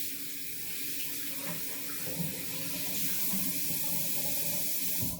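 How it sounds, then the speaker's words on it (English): A Zurn automatic sensor faucet runs water into a sink in a steady, close, continuous stream that holds for about five seconds before ending abruptly, with no voices. "Show your hands under the faucet and it will start."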